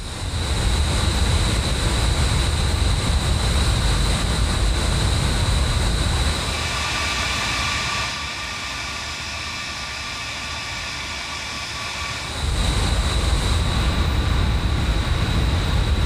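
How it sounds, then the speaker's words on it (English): The Avro Vulcan B Mk.2's jet engines in Microsoft Flight Simulator give a steady, loud broadband roar with a high whine that fades back for a few seconds and then returns in full. "That engine sound is glorious."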